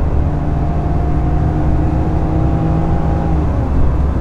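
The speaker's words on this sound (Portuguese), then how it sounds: "vou acelerar até 120 para ver como é que o carro se comporta" A Ford Ka Titanium 1.5 automatic accelerates hard toward 120 km/h, a steady loud droning engine and road roar from inside the cabin with air conditioning running, its pitch slowly rising without a break.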